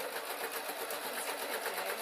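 Sewing machine stitching denim, a soft, steady rapid whirring hum of the running motor and needle, continuous and fairly quiet with no talking.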